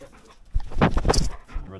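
A dog pants and whimpers close by, with quick breathy huffs and a short rise of whining in the middle, heard alone and at moderate volume.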